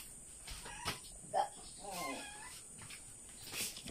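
Several pet cats meow faintly and briefly while being fed at home, with short high cries scattered among quiet background noise and soft speech.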